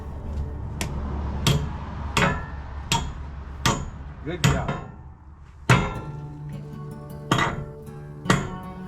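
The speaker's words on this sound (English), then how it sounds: "It's gonna go in that hole, and we're gonna hammer it down." A hammer drives a half-inch wedge anchor into a wooden barn post with about a dozen sharp, ringing metal strikes at an uneven pace, close and loud, and a voice speaks briefly.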